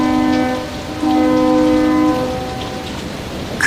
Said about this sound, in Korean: 아침부터 장대비를 쏟아내고 있었습니다